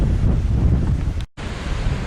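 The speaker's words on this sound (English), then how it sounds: "This is the fog and stuff blowing in off the ocean." Strong wind and crashing surf blowing in off the ocean at the Cape Disappointment Lighthouse on the Washington coast, a loud continuous roar with heavy wind buffeting on the microphone, briefly cutting out near the end, no voices.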